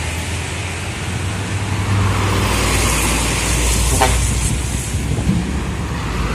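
Hino dump trucks roll past one after another at a bend near the Malang border, a steady broad road rumble with tyre and engine noise swelling around the middle, and a voice talking over it.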